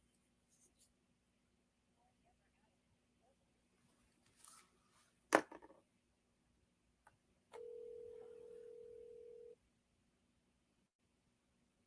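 A mobile phone that placed a call by accident, with a few faint clicks and taps, a sharp click, then a steady electronic dial tone lasting about two seconds in an otherwise quiet room.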